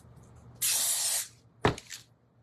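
Spray paint hissing from a can onto a shelf, one steady blast of about half a second, then a short sharp spurt after a pause, close by.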